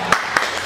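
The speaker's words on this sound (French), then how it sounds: "Applaudissez là." Audience applause at a business networking coaching session, heard as a steady wash of clapping with three sharper, evenly spaced claps standing out close by.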